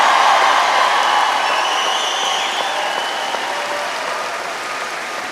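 A large commencement audience applauds and cheers steadily, a dense wash of clapping and voices that stays loud and even throughout without a break.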